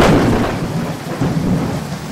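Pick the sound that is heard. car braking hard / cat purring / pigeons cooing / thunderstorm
thunderstorm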